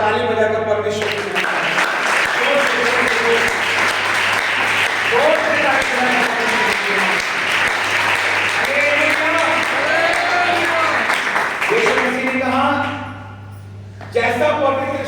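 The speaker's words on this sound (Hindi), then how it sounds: "ताली बजाकर परमेश्वर की" Congregation at a church prayer meeting in Punjab clapping hands in praise of God, a dense, continuous roar of applause lasting about twelve seconds over music and a steady hum, fading out near the end.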